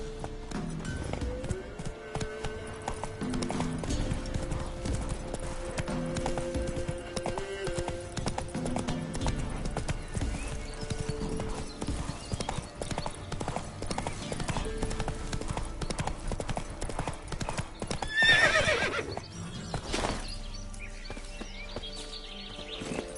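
A horse gallops in The Witcher 3 video game, steady close clip-clop hoofbeats throughout, with a whinny rising near the end and faint game sounds underneath.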